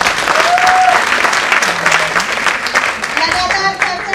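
Audience applause for a speaker at a student networking event, loud sustained dense clapping filling the room from start to finish, with faint voices mixed in.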